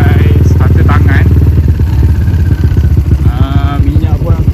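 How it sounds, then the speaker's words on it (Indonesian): A motorcycle engine runs steadily after a kick start, a close, loud, throbbing putter with a fast regular pulse and a slight rise in revs. "So motor dah boleh start pakai starter tangan."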